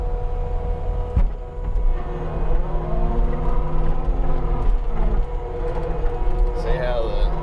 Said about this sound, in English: See how the skid steer is kind of bobbling?